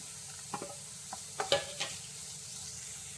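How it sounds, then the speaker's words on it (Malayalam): Chopped onion and green chilli sautéing in a pan while a spatula scrapes and stirs in several short knocks over a quiet, steady sizzle, no talking. "അതും കൂടി ഒന്ന് വഴറ്റി കൊടുക്കാം"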